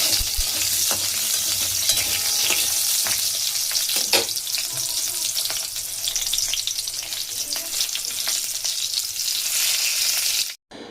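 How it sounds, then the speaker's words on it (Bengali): A few bori lentil dumplings fry in hot oil in a kadai, giving a dense, continuous close sizzle with occasional stirring knocks that cuts off abruptly near the end, with no voices. "গরম তেলের মধ্যে দিয়ে দিলাম কয়েকটা বড়ি।"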